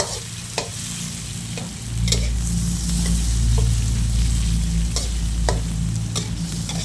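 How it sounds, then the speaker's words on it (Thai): Shrimp stir-fried in a pan for a sweet and sour dish, with a steady sizzle throughout and repeated sharp scrapes and clinks of a utensil against the pan, loud and close with no talking. "ผัดกุ้งให้สุกนะคะ"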